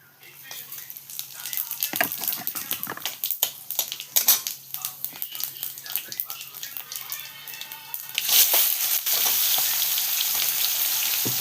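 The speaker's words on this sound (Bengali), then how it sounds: "এই যে সম্বারাতে দেবো জিরা, একটা শুকনো লঙ্কা, বড় এলাচ।" Cumin, a dry red chili and black cardamom crackle and spit in hot oil as a tempering, close and busy with sharp pops. The sizzle then swells into a louder, steady hiss near the end.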